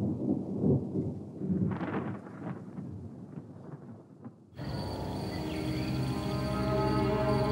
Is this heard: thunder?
yes